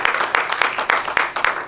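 A church congregation applauds during a Spanish-language sermon, giving a short burst of brisk, steady clapping at moderate volume with no talk over it.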